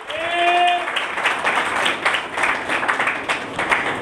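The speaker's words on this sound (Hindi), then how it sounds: "जोरदार तालियां बजाएं।" Church congregation applauding during a sermon, a dense steady wash of clapping lasting throughout, with a brief tonal voice or sung note near the start under the clapping.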